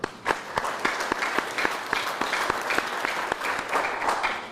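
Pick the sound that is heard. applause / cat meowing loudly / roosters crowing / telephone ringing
applause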